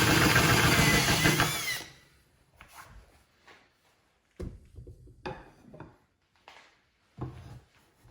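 Power drill boring holes through a wooden seat blank, one loud sustained run of about two seconds, then several short, quieter bursts of drilling and handling, with no talking.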